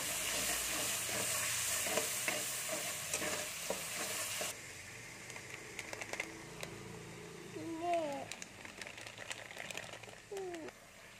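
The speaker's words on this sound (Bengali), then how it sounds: "টমেটোটাকে একটু নেড়ে নিচ্ছি। দিয়ে দিচ্ছি। এই দুটোকে আমি একটু ভালো করে ভেজে নেবো।" Tomato frying in a pan with cauliflower, a soft sizzle with scattered stirring scrapes, loud at first and then quieter, while a pigeon coos in the background.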